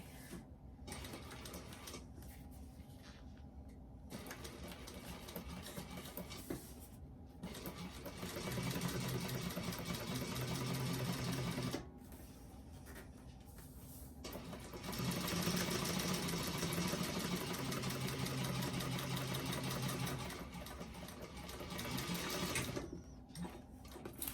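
A sewing machine with a walking foot topstitches a vinyl bag in several bursts of rapid mechanical whirring and clatter, starting and stopping, with louder faster runs in the middle and brief quiet pauses between.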